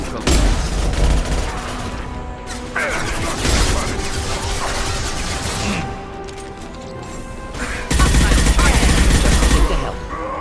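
Gunfire and explosions in the sci-fi shooter Mass Effect, dense bursts of shots with booming blasts and crashes, loud and continuous, under a backdrop of battle noise with heavy hits near the start and again toward the end.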